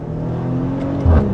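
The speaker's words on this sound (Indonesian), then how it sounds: "Oh, sudah ada ledakan-ledakan dari knalpot. Sekarang kita gas." A 2020 Maserati Levante engine hums steadily then rises into a brief rev near the end, loud and close; distinct exhaust pops are not clearly apparent.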